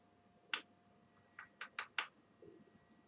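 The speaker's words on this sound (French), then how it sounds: "Tu peux taper avec le doigt. Après, ça fait petite cloche bouddhiste." A small Buddhist-style bell on a street performer's instrument, tapped with a finger: a few quick bright strikes with a sustained ringing tone, close and clear, with no talk.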